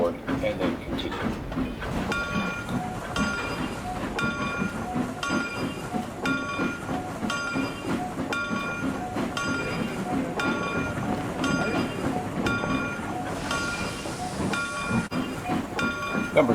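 A passenger train in the Trainz railroad simulator pulls into a small-town station, its steady rolling rumble and hiss carrying throughout with a regular repeating chime or bell tone over the top, a voice speaking along the way.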